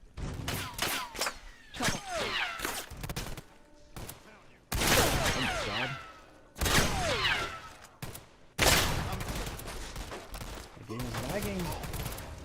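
Rapid bursts of gunfire from the Fallout: New Vegas video game, with dense crackling shots in clustered volleys and brief pauses between bursts; it sounds close and loud throughout.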